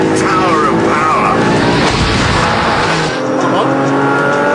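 An Audi R8 with a V8 engine races through corners, its loud engine roaring close by along with squealing tyres, with someone talking over it.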